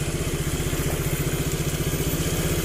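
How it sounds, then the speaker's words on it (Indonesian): Honda Vario scooter engine running steadily after a dirty carburetor was cleaned, a close, loud, rapid even putter with mechanical clatter, no clear revving and no talking. "Motornya sudah bisa menyala dengan kondisi sempurna."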